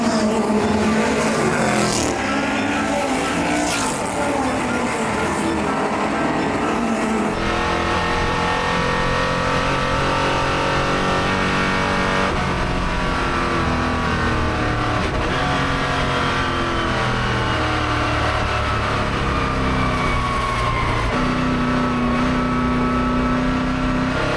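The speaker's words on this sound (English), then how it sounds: "A quartet of cars making their way, almost knocking the camera over." Four historic race cars sweep past a trackside spot at the Goodwood Revival, engines roaring loud and close, rising and falling as each car passes in quick succession, with revving and shifting gear notes and no talk.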